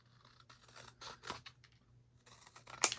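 Scissors snipping a decorative item cut from designer packaging for a junk journal, a few quiet crisp cuts with a sharper snip at the end, close and alone.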